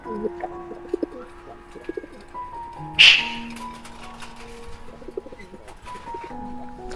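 A domestic pigeon coos in soft, low repeated calls, with a brief louder flutter or rustle in the middle. Faint background sounds and occasional voices are heard.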